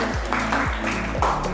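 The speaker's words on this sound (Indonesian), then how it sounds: "Tepuk tangan untuk semuanya." A class of high school students applauds everyone in a dense, steady clapping bed, with low tonal hum and a sliding whine running underneath.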